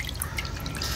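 Water is poured by hand over a vanjiram (seer fish) as it is washed in a bowl, making a continuous soft splashing and trickling with small drips. It sounds close, steady and fairly quiet, with no talk over it.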